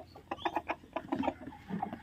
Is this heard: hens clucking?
yes